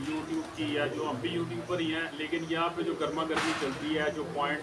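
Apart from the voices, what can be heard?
No everyday noises stand out.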